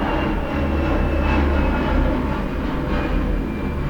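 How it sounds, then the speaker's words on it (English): An aeroplane passing overhead makes a steady, loud, broad rumbling roar that holds throughout, with no voices. "sorry guys, there is an aeroplane."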